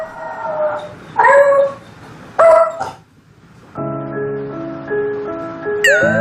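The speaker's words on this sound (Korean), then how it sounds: "그런데 그때 울부짖는 태양" A dog howls and whines in anxious, drawn-out cries, loud and close, in repeated bursts separated by pauses, while a sustained musical tone runs beneath.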